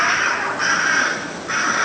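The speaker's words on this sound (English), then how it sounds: "the crow's still down there antagonizing" A crow gives two harsh, drawn-out caws in quick succession, loud and close, with a brief dip between the calls.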